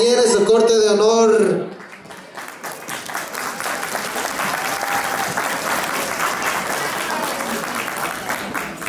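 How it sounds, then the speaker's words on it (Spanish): A crowd of party guests gives loud, sustained applause for a quinceañera and her court of honor at her fifteenth-birthday celebration, following a brief burst of louder sound at the very start. "con un fuerte aplauso, que recibir la quinceañera y su corte de honor"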